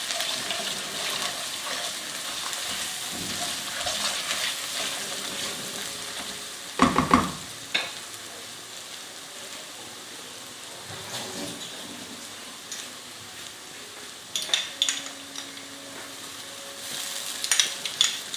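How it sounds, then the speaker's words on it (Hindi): Tomato masala with salt sizzles and fries in a pan for a Pakistani chicken moilee. A constant soft crackle runs throughout, broken by a few louder scrapes and clanks of a spoon stirring. "थोड़ा सा हम इसमें ऐड करेंगे नमक, थोड़ा सा हम भूनेंगे।"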